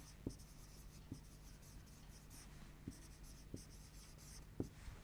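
Marker or chalk strokes on a classroom board during a soil science lesson for a seventh-grade class, five short, sharp scratching bursts spaced irregularly over a low steady hum, with no talking.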